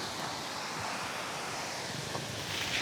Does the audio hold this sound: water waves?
yes